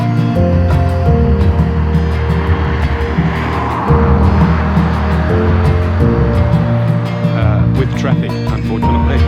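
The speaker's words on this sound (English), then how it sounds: "Traffic, unfortunately." Road traffic on a wet road through a New Zealand valley in fine drizzle, a loud steady roar of passing vehicles with tyre hiss rising and falling throughout, with voices talking over it.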